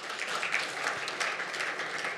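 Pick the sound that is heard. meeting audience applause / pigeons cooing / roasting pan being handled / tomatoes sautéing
meeting audience applause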